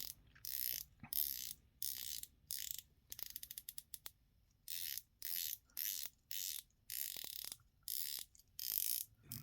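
Crisp ratcheting clicks come in short bursts as a 120-click watch bezel is turned, with brief pauses between turns and one rapid run of clicks, close and quiet.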